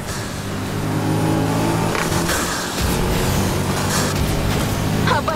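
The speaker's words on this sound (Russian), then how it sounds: "Обожаю звук этого движка" A car engine revs and roars in the racing game Need for Speed Heat, a loud sustained drone that climbs and dips through gear changes with no one talking.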